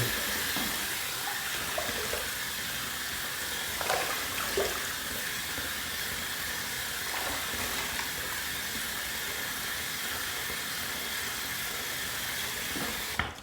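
Water runs steadily from a tap to wet a head before a shave, a constant hissing flow lasting the whole stretch with faint knocks and a sharp noise at the very end, no talking.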